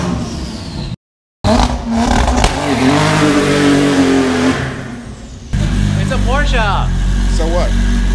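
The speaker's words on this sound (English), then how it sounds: "Let's try to do a donut." A Porsche 997 attempts a donut, its engine revving hard and rising in pitch through repeated bursts, loud and close, with a brief cut-out early on and people talking and shouting over it.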